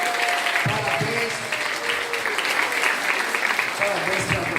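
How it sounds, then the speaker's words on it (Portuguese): A church congregation applauds the Lord and the mothers present, sustained dense clapping with voices and brief tones underneath. "Vamos aplaudir o Senhor e aplaudir essas mamães também."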